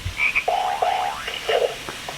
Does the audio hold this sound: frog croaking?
yes